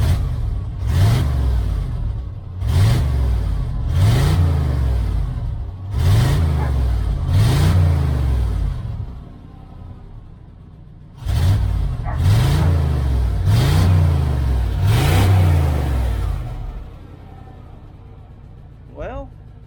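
A 1994 GMC Stepside pickup engine revs up eight times in regular two-second pulses, pausing briefly midway, each rev rising then dropping back; close, loud and heard alone.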